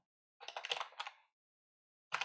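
Keys clatter on a computer keyboard as a video description is typed, a dense burst of close clicks lasting about a second, then a pause and a short second flurry.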